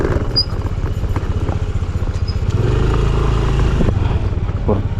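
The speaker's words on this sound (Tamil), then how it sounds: "டெம்போ பிக்கப்பாக இது ஒன்று வருது." A Tempo pickup truck rumbles past on a mountain highway through a tiger reserve, its engine throbbing steadily and loud up close as it approaches and goes by.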